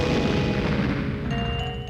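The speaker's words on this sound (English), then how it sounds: "we gotta blow up this wall with bombettes once again" A Bombette blasting through a wall in the Paper Mario video game, a loud rumbling boom that rolls on for under two seconds, with a thin tonal ring fading in near the end and no voices.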